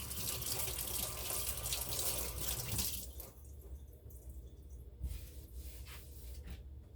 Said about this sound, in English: So let me get my hands washed from touching that oil.